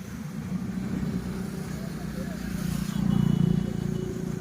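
A passenger train with sleeper coaches heads towards Latur, giving a low, steady running rumble that swells slightly near the end, heard from on board with faint voices.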